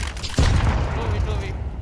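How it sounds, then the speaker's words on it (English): A flashbang grenade detonating in the game CS2: one sudden heavy bang that settles into a sustained muffled wash with a low rumble underneath. "I'm throwing a flashbang."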